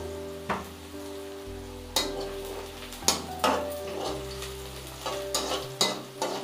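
Onion frying in a pan sizzles steadily for an omelette masala, while a spoon scrapes and clanks against the metal in repeated stirring strokes, close and clear.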